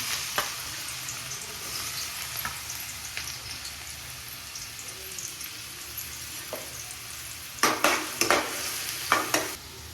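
Onions fry in hot oil for egg noodles, a steady crackling sizzle running throughout, with occasional stirring scrapes and a burst of louder clattering spatula strokes near the end.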